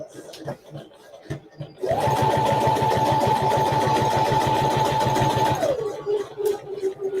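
A Brother Runway sewing machine back stitching hums loudly and continuously for several seconds, its motor whine shifting pitch as it stops, with light handling noises before and after.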